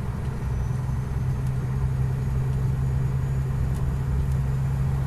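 A car's engine hums steadily from inside the cabin as the driver speeds up a little, a low continuous rumble with road noise running throughout and no talking.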